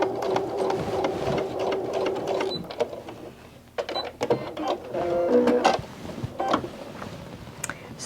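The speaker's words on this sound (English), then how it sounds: "I watch how the edge of the foot of the machine follows the edge of the cloth" A sewing machine stitches a seam in cloth for a medical mask, its needle chattering in a fast, steady mechanical rhythm that stops and starts in short runs, close and clear.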